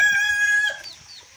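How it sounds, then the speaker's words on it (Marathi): Farm chickens call near the microphone, one long tonal crow-like squawk followed by quieter clucks and chirps as it tails off. "या आपल्या इकडे कोंबड्या"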